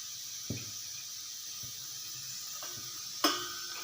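Groundnut oil warming in a frying pan gives a faint, steady sizzle and hiss, with a few soft clinks and taps of cookware breaking through, one sharper knock near the end.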